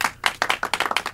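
Audience applause in a stage-fright talk setting, a short burst of brisk, close clapping with sharp repeated hand claps, fairly loud and with no talking over it.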